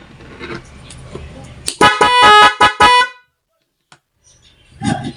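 An NHAY 93 Plus Pro double-contact vehicle horn set to mode 3 blasts loud and close in a quick series of about five sharp, pulsing tonal bursts, then falls silent.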